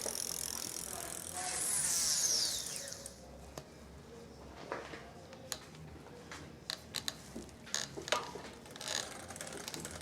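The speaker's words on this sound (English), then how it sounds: "We do have a little bit of rubbing, so I'm just going to rotate this clockwise and tighten up the cable a little bit." A bicycle chain rubs against the derailleur as gears are shifted, a close mechanical whirring with scattered ticking and clicking that continues over the clip, with a brief squeal near the start.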